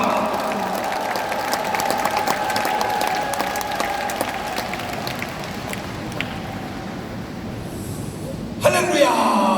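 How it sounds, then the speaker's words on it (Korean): A large audience at a Korean church rally welcomes a pastor with sustained, dense applause that runs steadily throughout, with cheering and voices mixed in and a brief louder swell near the end. "큰 박수를 보내주시기 바랍니다."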